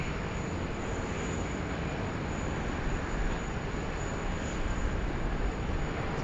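An Air China Airbus A330-300 airliner taxiing at Sydney Airport gives a steady, broad jet-engine roar with a faint high whine, constant and moderately distant throughout, with no talk.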